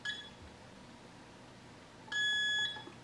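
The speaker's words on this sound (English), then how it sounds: "And a long beep, and you've got it." A fingerprint deadbolt lock gives a short electronic beep, then after a pause a steady, clear long beep confirming the fingerprint has been accepted, heard close with no talk.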